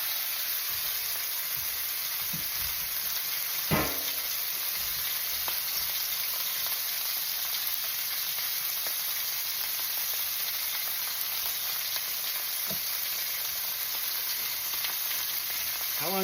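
Pot roast sears in a hot pan with a steady, loud sizzle and hiss throughout, broken by a few soft clinks and scrapes.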